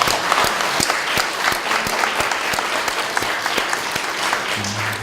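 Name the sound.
church congregation applauding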